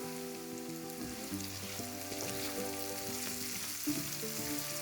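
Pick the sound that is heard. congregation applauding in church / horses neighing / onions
onions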